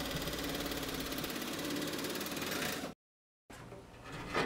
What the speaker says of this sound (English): I like to use a pneumatic nibbler